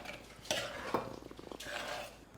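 Shrimp curry being stirred in a pot, a spoon scraping and clinking against the metal in a few distinct strokes at close range, with no one talking.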